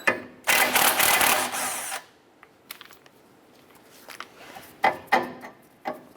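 A tool spins a 19mm socket on the tie rod nut of a 2008-2012 Honda Accord in one loud, close, whirring burst lasting about two seconds, followed by quieter clicks and metallic clatter as the nut is handled.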